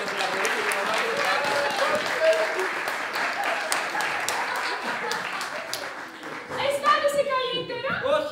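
An audience claps at a theatre show, steady applause of many hands, fairly close and sustained, with scattered voices rising near the end.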